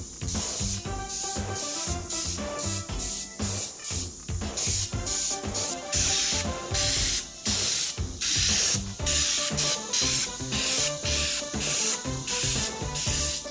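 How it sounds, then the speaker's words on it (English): An airbrush sprays base coat paint onto a 3D printed Donatello head, a steady close hiss running beneath louder rhythmic background music. "we're going to add this into our airbrush"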